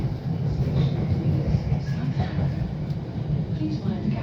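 A London Underground train heading toward Acton Town rumbles steadily, a low continuous roar with faint rattles, heard from inside the carriage with a voice talking over it.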